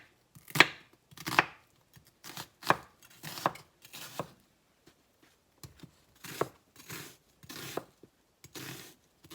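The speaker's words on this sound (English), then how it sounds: "you want to finely dice your onions" A knife dices an onion on a cutting board for meatloaf, giving close, crisp chops in short bursts of several quick strokes with brief pauses between them.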